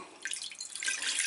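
Water runs steadily from a tap into a small saucepan while a drink recipe is being prepared, a soft continuous splashing stream with no talking.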